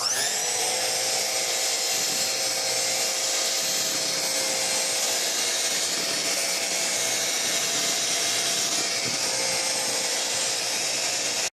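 Blender running continuously, mixing strawberry puree and vanilla for baking, a steady loud whirring motor hum that holds level throughout without pause.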